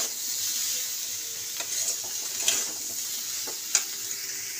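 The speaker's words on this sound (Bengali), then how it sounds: "তো মশলা কষা হচ্ছে" Spices sizzle in a pan with soaked soybeans and melting tomato, a continuous hiss broken by a few sharp crackles and soft stirring clicks, heard close up with no voices.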